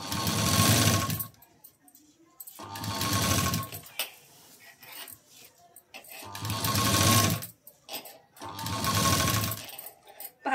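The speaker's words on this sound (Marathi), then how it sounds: "शिलाई देत देत यायचं आहे" Domestic sewing machine stitching a blouse sleeve in bursts: four loud whirring runs of about two seconds each, separated by quieter pauses, close up.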